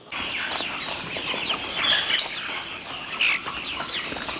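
A dense flock of broiler chicks on a poultry farm clucks and chirps continuously, loud and close, with no pauses in the busy chatter.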